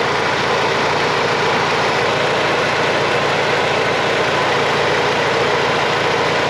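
A turbocharged Honda G23 engine idles with the hood open, a steady loud broadband drone with a constant low rumble, no talking.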